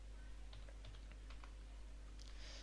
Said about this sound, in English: So I'm going to type in equal filter,